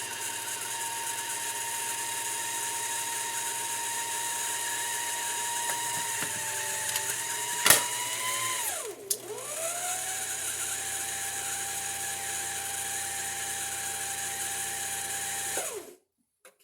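A sewing machine motor whirs steadily as it winds a bobbin, a continuous close mechanical drone that dips briefly in pitch twice before stopping, with no talking.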